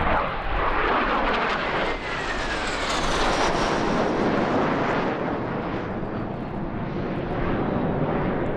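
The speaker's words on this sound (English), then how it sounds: "The MiG-29 is a UB model jet, a 2-seat conversion trainer, and one of the 2 original Soviet MiG-29 variants" A 1986-built MiG-29 UB, a two-seat Soviet jet fighter trainer, roars loudly at an airshow, a broad, continuous engine blast that swells and sweeps as it passes, with no voices over it.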